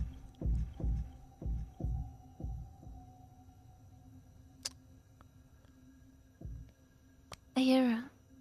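Pulsing heartbeat effect in the horror video game Inside the Backrooms, a run of deep, soft thumps in a steady rhythm that fades out, set against a low hum with faint clicks and a brief tonal game sound.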